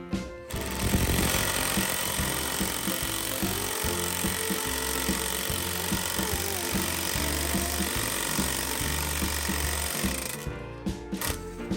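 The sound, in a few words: cordless impact driver driving bolts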